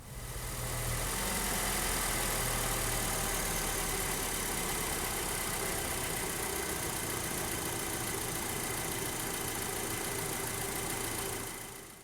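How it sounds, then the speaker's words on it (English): A 2.0T FSI engine in an Audi B7 A4 idles close by for about twelve seconds to lower high-pressure fuel rail pressure, a constant low rumble with a faint hiss, no voices. "We can just start the car, run it for about 15 to 30 seconds."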